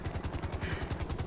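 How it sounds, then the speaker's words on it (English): A helicopter's rotor spins up in GTA 5, a rapid rhythmic thumping chop pulsing steadily and loudly over an engine whine. "The helicopter's still spinning up."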